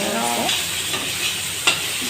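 Food stirred and fried in a hot pan with a little sugar added: a continuous close sizzle with scraping stirring strokes and a brief sharp clink near the end, no talking.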